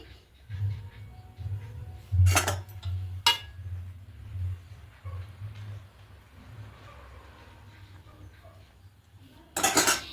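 Rice being mixed into potato biryani in a pot, with soft scraping and a few sharp metallic clinks of a spoon against the pot, quiet and intermittent in a calm kitchen.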